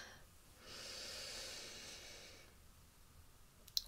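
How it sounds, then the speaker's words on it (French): One long, steady breath of air drawn and released slowly through the mouth during a guided relaxation breathing exercise, soft and close, lasting about two seconds before fading into quiet. "On garde le souffle et on le fait partir."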